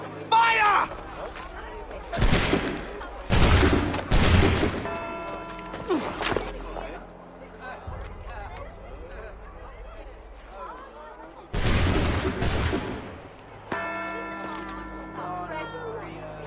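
Musket volley fire in the video game Assassin's Creed 3: several loud, sharp blasts come in clusters early on and again near the end, with voices and in-game background sounds between them.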